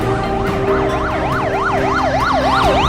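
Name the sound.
police car siren in a short film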